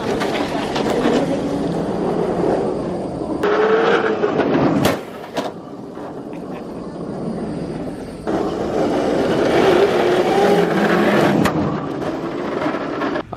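A tuned car with a 1.5JZ engine from Taxi Garage accelerates hard with loud, rising engine roar in two long pulls. A quieter lull with gear changes and wind rush separates them. No talk.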